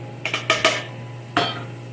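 Onions and kielbasa going into a pan over browned fond, heard as a quick cluster of metallic clatters and scrapes, then a single louder knock after a short pause, with a faint sizzle underneath.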